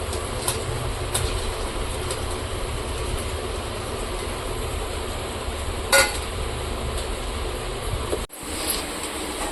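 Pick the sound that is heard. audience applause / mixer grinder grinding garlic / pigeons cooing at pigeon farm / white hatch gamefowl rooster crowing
mixer grinder grinding garlic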